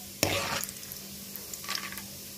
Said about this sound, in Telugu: పుట్నాలు వేసి వీటి కూడా దూరగా వేయించుకుందాం.